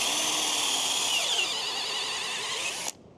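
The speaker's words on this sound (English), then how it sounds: "I'm going to want to drill about 2 inches into the tree" A power drill with a 5/16 inch bit bores steadily into a maple tree trunk, one loud continuous whine that drops slightly in pitch as it bites deeper, then cuts off abruptly near the end.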